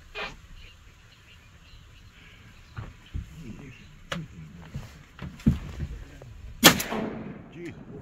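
A Remington 11-87 shotgun fires at a mallard during a duck hunt outdoors, one sharp loud report standing out amid scattered thumps, splashes and faint background noise.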